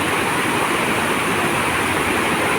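Sprite Falls, a mountain waterfall, pours with a loud, constant roar of rushing water that stays even and dense throughout, with no voices.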